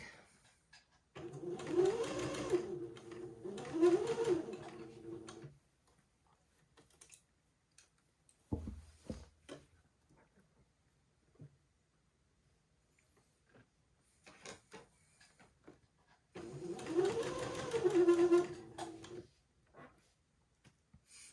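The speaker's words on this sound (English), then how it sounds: "I have sewed a straight seam all the way around the armhole" A sewing machine stitches a straight seam around a garment armhole in bursts, its rapid whirring rattle starting and stopping with quiet gaps between runs, close by.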